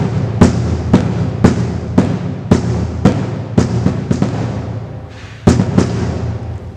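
Marching bass drums playing straights, a steady series of about ten loud, booming hits at an even pulse, close and alone, with a short gap before the final strokes.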